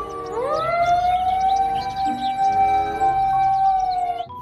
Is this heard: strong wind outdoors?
no